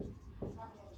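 A marker or chalk stroke on a classroom board during a Class 9 physics lecture on motion: one brief scrape heard under a teacher's steady talking.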